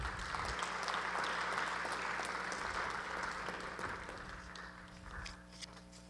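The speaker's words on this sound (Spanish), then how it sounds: "Lo recibimos con cálidos aplausos." Audience applause at an anniversary ceremony of a professional school of physical education, a dense wash of clapping that starts full and gradually thins and fades, heard from some distance at low level.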